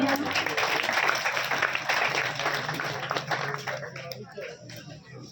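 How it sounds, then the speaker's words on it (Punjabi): Loud applause from an audience at a government school event honoring former students, a dense burst of clapping that slowly thins and fades over several seconds, with some voices mixed in. "ਜ਼ੋਰਦਾਰ ਤਾੜੀਆਂ"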